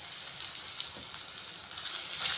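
Ginger garlic paste frying in a hot pan for an Andhra-style mutton and okra sherwa, a steady, close, bright sizzle with crackling spitting that swells slightly toward the end, no voices.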